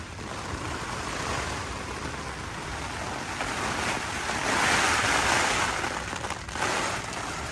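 Strong storm wind buffets and roars against a Jack Wolfskin Yellowstone 2 tent, a continuous heavy rush of noise that swells louder in gusts toward the end.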